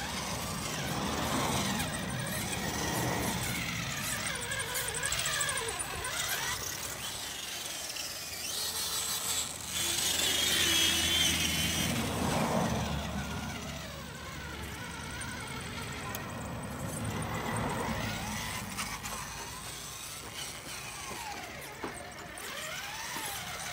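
A Traxxas TRX-4 RC truck drives over sand and rocks, its small electric motor whining and squealing in steady surges with gravelly scrabbling, rising in a louder burst midway as the throttle is pushed.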